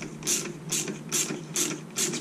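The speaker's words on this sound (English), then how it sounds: "a 12-point quarter inch will hold this. And I'm just going to chase the threads" A quarter-inch ratchet turning a 12-point socket while chasing bolt threads on a Jeep TJ power steering pump pulley, five rhythmic bursts of rapid metallic clicking heard up close.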